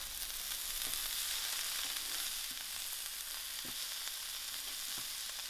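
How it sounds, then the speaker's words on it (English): Vegetable filling for vegetarian spring rolls with pepper frying in a pan over very low heat, giving a steady, soft, continuous sizzle with a few faint scrapes of stirring and no talking. "I will allow this to cook on a very low heat."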